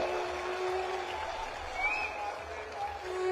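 A crowd at an outdoor Aam Aadmi Party political rally in Punjab claps in a steady, dense wash of applause that fills the whole stretch at moderate loudness, with no clear pauses.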